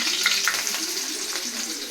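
Onions frying in a pan with homemade ginger garlic paste give a steady, moderate sizzle with soft crackle, continuous and close, with no talk.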